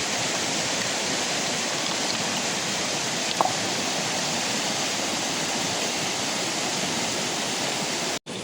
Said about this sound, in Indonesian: ini airnya nih sahabat nih dialirkan ke sebelah kanan nih